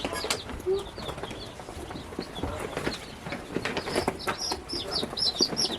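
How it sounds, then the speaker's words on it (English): Day-old baby chicks just arrived from the store, cheeping in a chorus of high, rapid peeps that run steadily throughout, moderately close, with some rustling and handling noise underneath. "These are only day-old chicks."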